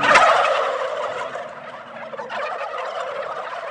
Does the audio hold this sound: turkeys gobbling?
yes